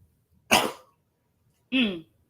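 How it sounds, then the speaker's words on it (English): Two separate coughs, close and fairly loud, about a second apart, with silence between them. "I had to cough"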